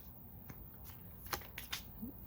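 A deck of tarot cards is shuffled by hand, giving soft, quiet riffling and a few sharper flicks and taps against a low background hiss.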